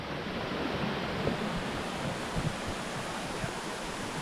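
A forest stream flows steadily nearby, a continuous broadband rush of water with faint knocks and rustles, no speech.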